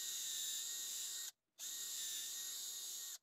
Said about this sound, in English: Making sure the size is flush on one side, and we can pre-drill the hole.